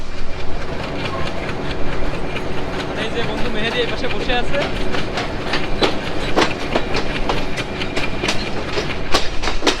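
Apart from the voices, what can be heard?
Nakshikantha commuter train running between Bangladesh stations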